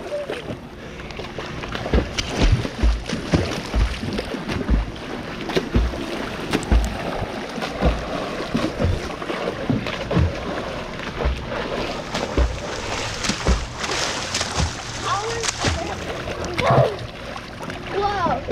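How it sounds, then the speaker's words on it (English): Waves surge and splash in a wave pool, with continuous sloshing water and choppy bursts, while excited kids shout over the noise. "Look at these waves."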